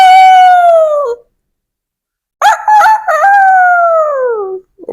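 A person imitates a bird's caw, giving two loud drawn-out cries with a short silence between them, the second longer and wavering, with no other voices.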